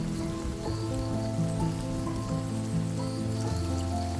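Rain dripping from the limbs of a towering Brazil nut tree in the jungle, a steady dense patter of drops heard alone, with no voices, over a continuous low hum of forest sound.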